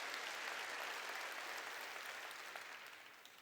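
A church congregation claps together during a worship service, a steady dense wash of applause that holds evenly and fades slightly toward the end, heard alone without speech.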